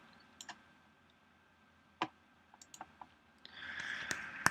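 Computer mouse clicks while drawing in Adobe Illustrator, a few faint, sparse single and paired clicks spaced irregularly over a quiet background with a soft hum.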